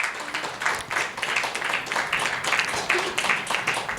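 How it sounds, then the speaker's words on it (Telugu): Church congregation clapping together in quick, steady rhythmic bursts, loud and sustained, with voices mixed in beneath. "అందరం గట్టిగా చప్పట్లు కొట్టి దేవుని మహిమపరుద్దాం"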